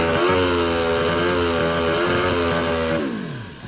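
A Turbo Hayabusa drag racing motorcycle in the near lane holds a loud, steady, buzzing rev close by, then the engine note falls away over the last moment.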